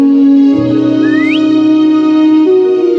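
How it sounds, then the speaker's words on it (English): In the video game Wuthering Waves, a character whistles to call a companion, giving a short rising whistle over a loud, steady drone of game music. "Try whistling."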